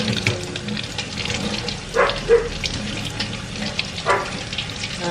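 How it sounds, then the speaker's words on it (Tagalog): Enoki mushrooms are rinsed under a running kitchen tap, a steady close stream of water with splashing shifts as they are handled. "Just wash it with running water like this guys, because they are so delicate."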